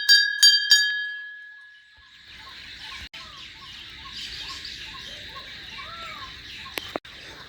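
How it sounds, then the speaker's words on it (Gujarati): A small village temple bell rings three quick times with a bright, clear tone, then fades. Birds keep chirping steadily in the background afterwards. "આપણે મસ્ત વગાડી લી ઘંટડી"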